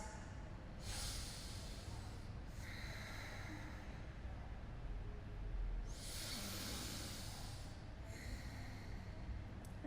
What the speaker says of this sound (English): Taking a few final breaths.